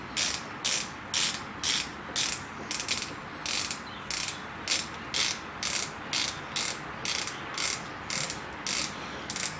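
Ratchet wrench unscrewing the mirror mount bolts on a BMW R1200RT motorcycle, a steady run of about twenty close, crisp clicking bursts in even rhythm, with no talk.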